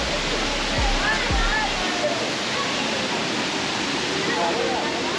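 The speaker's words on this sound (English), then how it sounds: "So this waterfall is very beautiful" A waterfall near El Tunco, El Salvador, roars as a steady, broad rush of falling water, loud and continuous, with faint indistinct voices of a crowd in the background.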